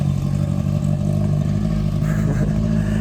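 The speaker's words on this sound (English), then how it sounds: "it's a really loud car." A loud car passes close by with a rough, growling engine note that holds steady and heavy throughout.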